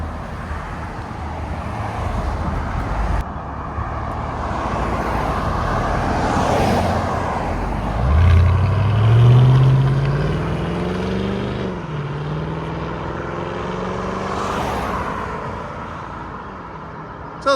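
A 2006 Mercedes S55 AMG with a 5.5-liter supercharged V8 and resonator delete, its exhaust rising in a deep rev around the middle, a steady rumble otherwise, heard from close by.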